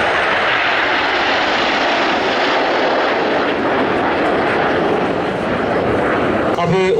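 Red Arrows jets flying in formation at the 2009 Radom Air Show produce a loud, continuous broadband roar that stays steady throughout, with someone talking over it.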